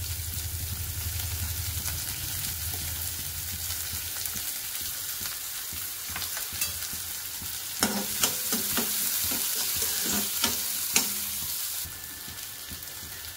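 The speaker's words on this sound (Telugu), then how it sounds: "కరివేపాకు, ఉల్లిపాయ, పచ్చిమిర్చి వేసేస్తున్నాను." Curry leaves, onion and green chilli dropped into hot oil in a pan: soft steady frying sizzle, then louder crackling bursts and stirring scrapes.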